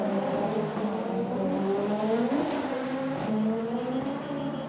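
A Leon Mercedes race car from the Super GT series enters the pit lane at Okayama, its engine droning steadily close by with shifting pitch as it moves through the lane.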